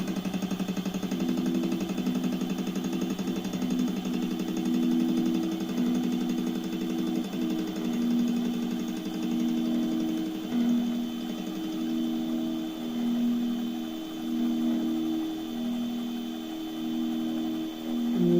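A milling machine runs steadily for the whole stretch while its spindle speed is turned down slightly, giving a continuous mechanical drone with a repeating, pulsing hum at fairly even loudness throughout.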